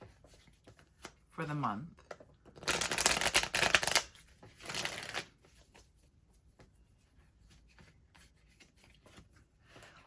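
Tarot cards being shuffled for a reading: a few seconds of dense riffling and rubbing, then a shorter burst. A voice speaks briefly before and around the shuffling.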